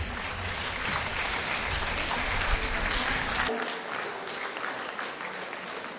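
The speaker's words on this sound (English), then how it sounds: "Please give her a big round of applause" An audience at a preschool annual day claps in a dense, loud burst of applause that thins out partway through and continues more lightly to the end.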